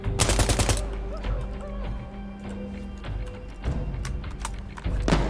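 Gunfire in the video game Insurgency Sandstorm: a loud rapid automatic burst opens, followed by scattered single shots and distant pops amid in-game movement noise, with a final close burst at the end.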